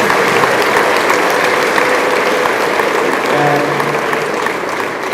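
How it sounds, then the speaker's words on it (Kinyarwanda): Congregation applause at a church funeral service, a steady, loud wash of clapping throughout with faint voices beneath. "Imana tuyiha amashyi menshi."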